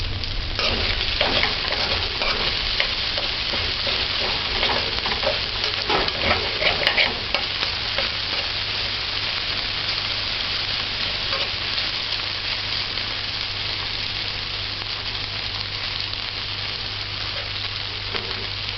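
Cabbage and fish stir-frying over high flame, a loud, dense, continuous sizzle with busy stirring scrapes near the pan, steady throughout and without speech.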